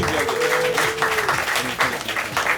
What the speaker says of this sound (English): Let's give a round of applause to Max.